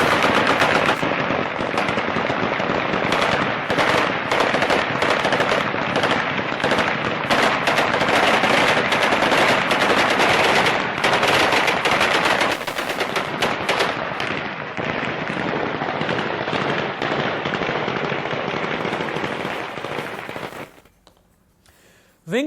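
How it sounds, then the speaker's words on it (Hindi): Aerial gunfire by the Taliban at Kabul airport, sustained rapid bursts of automatic rifle fire crackling almost continuously for about twenty seconds, loud and dense, then tapering off into quiet. "काबुल एयरपोर्ट पर तालिबानियों की तरफ से जो हवाई फायरिंग की गई है"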